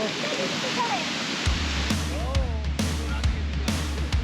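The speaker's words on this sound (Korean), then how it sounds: "쏟아져 내리는 폭포수 세례를 온몸으로 맞는데 아플 정도다." A waterfall pours down in a dense, roaring wash, heard up close from a raft drifting beneath the falling water toward a cave behind it, with a voice speaking over the steady rush.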